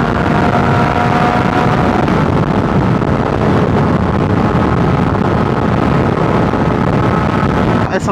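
MV Agusta 800 Dragster limited-edition motorcycle being ridden, a steady loud engine drone blended with heavy wind rush across the whole stretch, with no pauses or talk.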